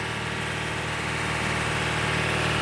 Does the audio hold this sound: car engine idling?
yes